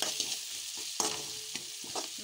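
Tomatoes and spices with turmeric, coriander powder and salt are stirred in a frying pan for a methi bhaji, giving a steady close sizzle under repeated scraping spoon strokes.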